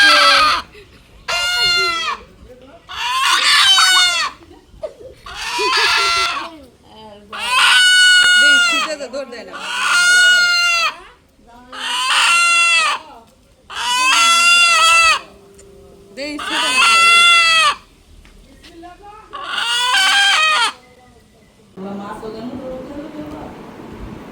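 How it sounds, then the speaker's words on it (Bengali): Repeated loud, close bursts of chicken calls, nine or so in a steady rhythm, followed by a softer rustling noise at the end. "এই মুরগিটা ওরা দিয়ে গেছে আরও একটা দিয়ে গেছে"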